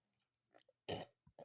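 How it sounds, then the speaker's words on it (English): A person with influenza lets out a short, close, loud burp, with a few faint throat sounds around it, alone in a quiet room. "burp a lot."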